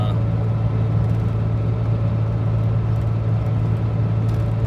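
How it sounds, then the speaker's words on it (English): A DeLorean car driving with a weird vibration, a steady loud low engine and road drone with a persistent deep hum throughout, no breaks. "This car's got a weird vibration right now."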